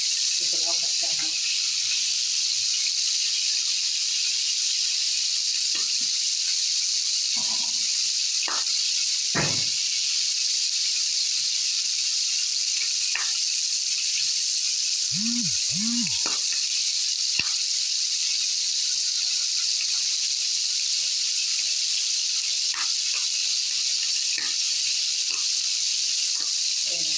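Okra in small pots cooking with local ghee for a baked okra dish, giving a steady, loud sizzling hiss throughout with scattered clinks and light knocks, and a couple of brief low thumps midway.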